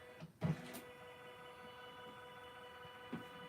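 A Janome Continental 17 embroidery machine fitted with a giant 12x19 hoop runs with a low, steady electric hum, marked by a couple of faint mechanical clicks and thumps, with no voices.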